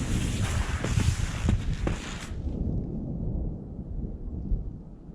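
Distant thunder rolls outdoors as a low, broad rumble under wind noise, fading gradually into a quieter murmur with no talking.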